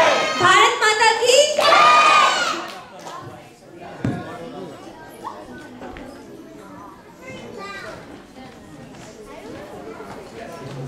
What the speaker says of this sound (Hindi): एक बार जोरदार तालियों के साथ थोड़ा माहौल में जोश भर दीजिए।